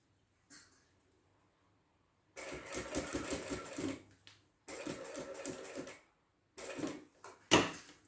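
A sewing machine stitches along the curved edge of a fabric wallet, running in three quick rattling bursts separated by short pauses, close and alone.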